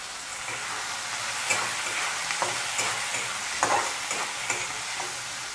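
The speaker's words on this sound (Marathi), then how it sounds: "मी थोडे मक्याचे दाणे घेतले आहेत ओले," Wet corn kernels are stirred into a hot frying pan for pasta, giving a steady close sizzle with scattered scraping and clattering stir noises.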